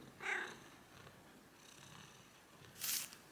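A cat lies down purring softly and steadily, close by and quiet, with a couple of brief brighter hissy sounds partway through and no talking.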